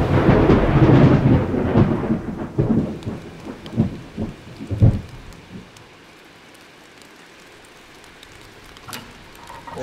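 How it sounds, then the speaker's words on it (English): Heavy monsoon rain pours down in Kerala while thunder rumbles and cracks loudly through the first half, then the downpour settles into a steady, quieter hiss with a faint distant roll near the end. "Kerala is having an excessive rainfall"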